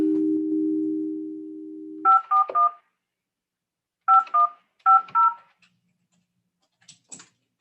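A telephone dial tone hums steadily for about two seconds, then a series of crisp, clear touch-tone beeps sounds in three quick groups, followed by silence and a faint final blip.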